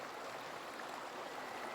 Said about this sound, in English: I love looking down as the water slips under the bridge.